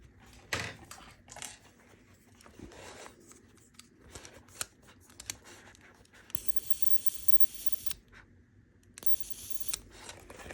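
Leather for a bag is cut with scissors or a blade in quiet surroundings, giving a series of close, crisp snips and scraping rustles, with a few longer hissy stretches near the end.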